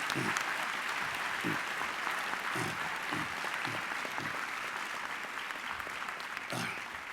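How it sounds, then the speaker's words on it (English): An audience at a university winter graduation ceremony applauds standing graduates who earned distinction. The clapping is steady and continuous, with occasional low voice murmurs beneath it. "Ladies and gentlemen, let's give them a round of applause"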